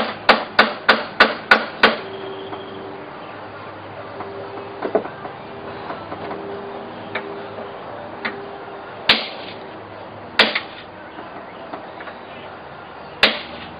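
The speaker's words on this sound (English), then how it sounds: "Just set your block of wood flat against it. Tap it into place. Tap it again to line it up." A hammer taps a wooden block to seat a part: a quick run of about six sharp raps, then a few isolated knocks spaced seconds apart over a quiet background.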